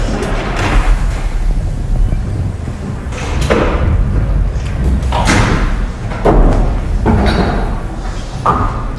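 A bowling ball crashes into the pins for a strike in a televised 2006 ladies' bowling event, giving a loud clattering impact among several thuds and slams amid lively alley noise.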